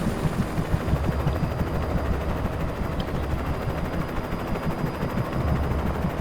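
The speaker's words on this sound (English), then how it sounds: "That's a search helicopter." Search helicopter in Alan Wake flying close by, a loud continuous rotor chop with a dense rumbling low end, steady throughout with slight rises at start and end.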